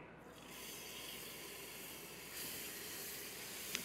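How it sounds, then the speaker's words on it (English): A steady, soft sizzle of onion in a hot pan, continuous hissing with no talking, fairly quiet throughout. "as we listen to this sizzle"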